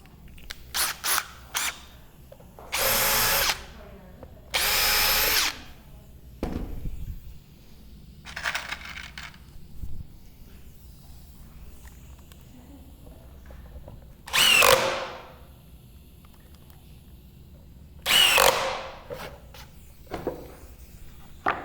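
Power drill driving screws into a wooden art crate, the wrong bit fitted: several short, loud whirring bursts separated by pauses, with clicks and handling knocks in between, close by.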